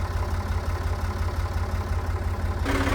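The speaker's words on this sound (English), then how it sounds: "I deploy the 1980s Renault Beast with a fork upgrade and head over to the wasps" A 1980s Renault tractor engine idles close by with a steady, heavy low chug that stays loud and even throughout, and the tone shifts slightly near the end.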